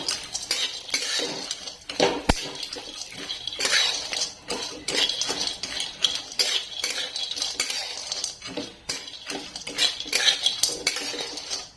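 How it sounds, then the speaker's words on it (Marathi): Dried date pieces roasting in a pan, stirred with a metal spoon that scrapes and clinks steadily against the pan, close and continuous with no talk. "हे सगळे तुकडे आपल्याला यात घालायचे आणि हे थोडे परतून घ्यायचे"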